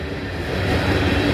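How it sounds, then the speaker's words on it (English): A train pulling uphill near Abbeville gives a steady, loud rolling rumble and rail noise that builds slightly over the short stretch, with no voices. "This train is going uphill right now."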